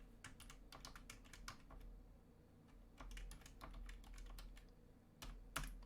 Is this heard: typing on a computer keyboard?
yes